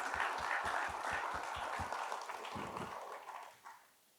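A forum audience claps for the panellists. The applause is faint and distant, with a run of rhythmic claps that thins out and fades to near silence by the end.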